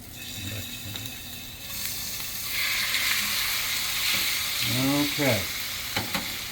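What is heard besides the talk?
shrimp frying in garlic cheese butter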